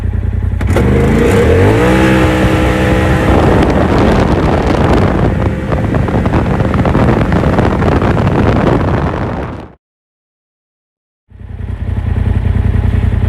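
A Polaris RZR XP Turbo side-by-side accelerates hard on grass in four-wheel drive, its engine rising in pitch under heavy wind buffeting. The sound cuts out for over a second, then the rough roar returns.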